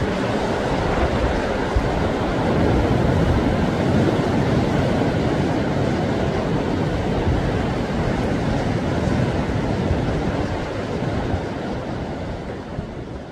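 Sea waves wash continuously against the rocky coast below Naksansa temple on Korea's east coast, a dense, steady surging roar that swells slightly and eases toward the end, with no voices.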